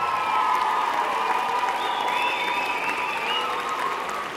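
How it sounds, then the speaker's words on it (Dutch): Sustained audience applause for art prize winners and participants at a music awards ceremony, steady and full throughout, with a little cheering mixed in. "mag ik een heel groot applaus voor alle Art winnaars en deelnemers"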